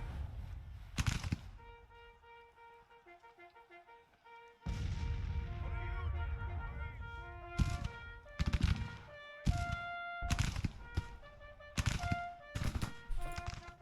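Artillery fire in the Civil War strategy game Grand Tactician: The Civil War, a series of loud booming cannon blasts and rapid volleys, some spaced, some clustered, with a musical score playing underneath.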